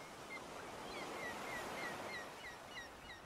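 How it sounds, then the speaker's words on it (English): A steady, soft wash of surf breaking on a shore. Faint bird calls sound now and then above the continuous rush. "Hear the gentle rush of waves on the shore."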